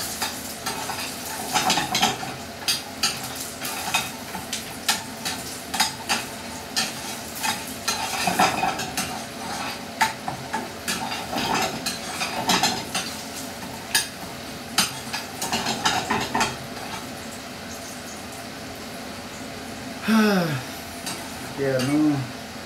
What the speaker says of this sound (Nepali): ब्राउन हुने गरी फ्राई गर्नु पर्यो पहिला